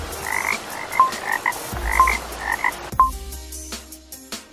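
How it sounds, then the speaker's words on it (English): A frog croaks in short, repeated bursts, with several chirpy calls in quick clusters, loud and near against a noisy outdoor background. "A frog."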